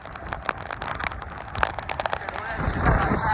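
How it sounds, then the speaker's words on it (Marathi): Heavy monsoon rain on the road between Parabhani and Parali Vaijanath, a dense, steady patter of drops hitting surfaces, with scattered louder splats, swelling louder toward the end. "इकडं खूप पाऊस चालू आहे सध्याला"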